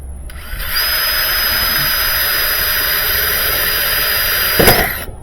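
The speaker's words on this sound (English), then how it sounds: "Let's just drill one right there." A steady, loud high-pitched whine of an electric drill boring into a Roper washer part, running continuously for several seconds, with a brief louder burst near the end.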